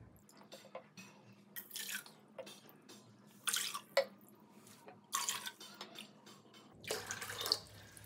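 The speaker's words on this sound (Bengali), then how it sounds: "এই কাপ মেপে 4 কাপ জল নেবো।" Water is poured from a tap into a measuring cup in a home kitchen, coming in several separate splashing bursts between quiet pauses.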